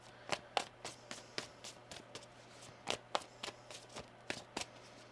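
Tarot cards are shuffled in quick riffling bursts, about a dozen crisp flutters in irregular rhythm, close and quiet, with no voices.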